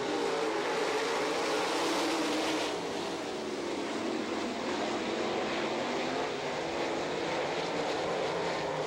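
Sprint cars roaring at Attica dirt track in Ohio during an All Star Circuit of Champions race, a dense, steady engine drone from the pack filling the whole stretch with no break.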